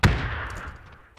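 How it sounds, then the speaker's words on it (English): A single sharp gunshot in the video game PUBG cracks out, then echoes and decays over the next second, fairly loud and close. "that's gunfire."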